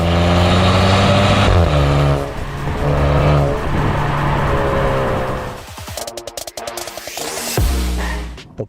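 A Maserati Ghibli GT with a 2-litre turbocharged four-cylinder and eight-speed automatic, its engine droning steadily and loud with shifting revs, then giving way to choppy, broken bursts of exhaust and wind noise near the end.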